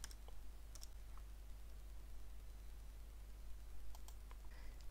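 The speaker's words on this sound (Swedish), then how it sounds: "skriver kurskoden eller kursnamnet för kursen du vill kopiera från" Soft, scattered keystrokes on a computer keyboard while entering a course code or name into a Canvas course search, a few irregular clicks over a steady low hum.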